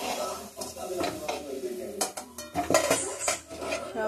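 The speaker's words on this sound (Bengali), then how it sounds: "আলুগুলোকে ভেজে ভালো করে আমি এবার তুলে নিচ্ছি।" Fried potatoes are lifted out of a pan with a metal utensil, making a string of clinks and scrapes against the cookware. A person talks over the sounds, and the scrapes come unevenly and close by.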